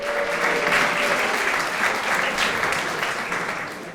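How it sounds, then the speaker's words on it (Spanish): Audience in a church gathering breaks into steady, dense applause, a sustained burst of many hands clapping that fades slightly toward the end. "Denle un aplauso al Marco, por favor."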